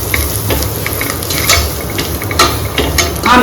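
Spices stirred through a small amount of oil in a pan for a Desi-style mutton gravy, with a steady sizzle and frequent scraping, clinking stirs that swell in bursts, close and fairly loud, no talking.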